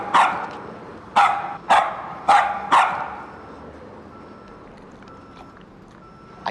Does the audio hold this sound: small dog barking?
yes